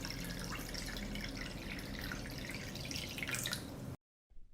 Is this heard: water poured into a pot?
yes